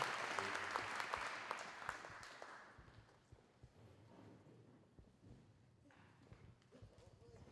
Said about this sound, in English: how about a big round of applause for all of our spring coaches